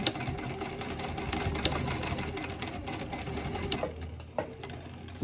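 A sewing machine with a size 18 needle runs a steady burst of stitches through overlapping fabric pieces for a dog treat bag, giving a close, even mechanical whir and rapid needle clatter that slows briefly near the end.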